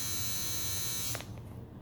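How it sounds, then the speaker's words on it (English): A household hair dryer runs with a steady, fairly loud whirring buzz for about a second, then cuts off abruptly, leaving a low room rumble. "That's my dryer."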